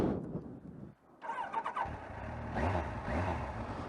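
A Kawasaki ZZR 1100 motorcycle engine starting: a quiet starter crank, then the engine catching with a rough, low idle that rises briefly, fairly faint and heard close by.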